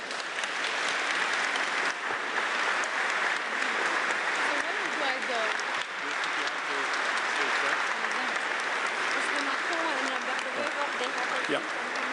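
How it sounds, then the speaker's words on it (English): Sustained applause from an audience greeting the President of France and the Prime Minister of Belgium at an EU leaders' gathering in Antwerp, dense steady clapping lasting throughout with a faint murmur of voices underneath. "Please give them an applause."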